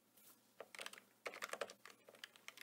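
Quick clicky keystrokes tap on a computer keyboard in irregular bursts, fairly close and quiet, with a short pause between flurries.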